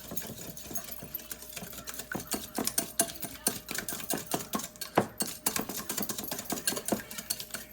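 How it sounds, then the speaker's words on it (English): A whisk beating a sriracha sauce mixture for crab cakes in a bowl: rapid, steady rhythmic clicking and tapping close by, continuing without a break over a faint hum. "I'm gonna whisk this together. I got my whisk."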